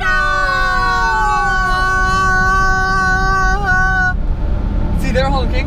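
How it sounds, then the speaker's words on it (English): A loud truck horn blares in one long, sustained, wavering tone for about four seconds before cutting off, followed by a brief higher sound. "See, they're honking. That's just the sound of the truck."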